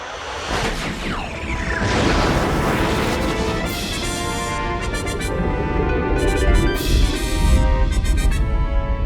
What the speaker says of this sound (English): Our big, beautiful star just exploded into smithereens!